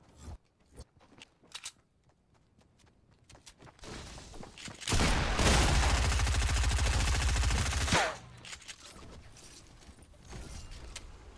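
A heavy Barrett .50 cal sniper rifle in Fortnite fires one booming, loud shot that rings out for about three seconds, framed by quieter scattered clicks and footstep-like taps before and after.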